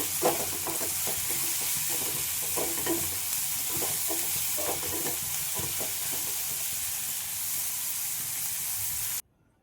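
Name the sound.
onions frying and being stirred in a pan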